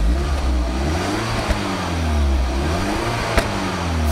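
BMW with a vacuum-valve exhaust in quiet mode, engine revving with the valve closed: a steady, muffled mid-pitched drone that rises and falls gently over several seconds, fairly close, with no talking.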